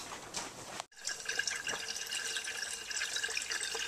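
Water poured into a freshly glued pump hookup, a steady liquid filling and trickling sound after a brief pause near the start, with faint dripping over a constant hiss.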